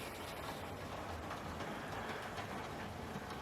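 A Bachmann split-chassis model steam locomotive on a Lyme Regis branch layout runs through a junction, giving a steady, close rumbling clatter of small wheels on track that holds evenly throughout.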